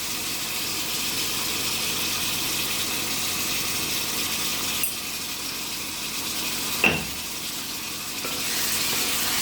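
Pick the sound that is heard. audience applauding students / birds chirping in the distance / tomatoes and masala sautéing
tomatoes and masala sautéing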